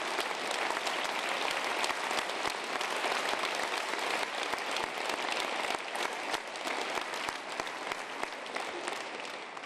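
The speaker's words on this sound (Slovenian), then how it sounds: "Je bil aplavz" Applause from the audience at the Zgornja Savinjska valley sportsperson of the year 2017 awards, a sustained, even roar of many hands clapping in a hall, fairly distant and without a break.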